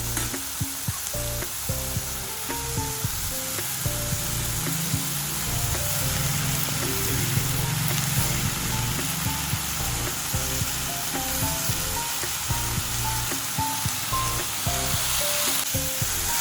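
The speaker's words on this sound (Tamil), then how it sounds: "வத்தல் இஞ்சி பூண்டு இது எல்லாமே ஓரளவுக்கு நல்லா ஸ்மாஷ் ஆகிற வரைக்கும் வதங்கட்டும்" Chillies, ginger, garlic and tomato sauté in a pan for a Madurai-style tomato mint chutney, giving a constant loud sizzle with frequent clinks and scrapes of a spoon against the pan, no voices.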